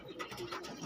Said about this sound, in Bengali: দেখে নিন সব পায়রাগুলো, দেখে নিন সব ফুলশিরা পায়রা আছে